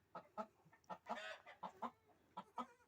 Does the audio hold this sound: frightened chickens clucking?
yes